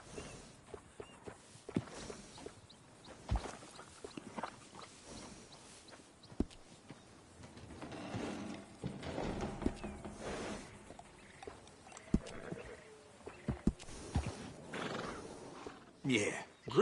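Horses neigh and whinny in the Red Dead Redemption 2 video game, with hooves clopping over ground, quiet and intermittent under background sounds and occasional voices.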